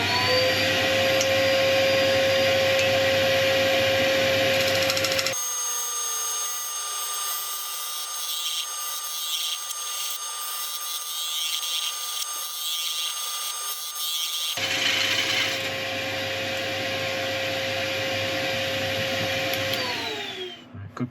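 A woodturning tool is sharpened on a motor-driven grinder: a loud, steady whirring whine runs throughout, thinning out for a long stretch in the middle before the full roar returns.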